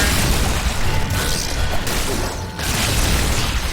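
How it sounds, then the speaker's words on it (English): A Necromancer's corpse explosion in Diablo III, a loud, dense, rumbling wash of blasts and crunching debris that runs almost continuously, with brief dips before it swells again. "My corpse explosion thing is just gonna help out here."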